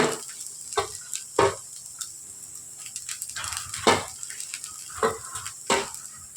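A spoon or spatula stirs red poha fried rice in a pan, with scattered scraping and tapping strokes against the metal over a faint sizzle.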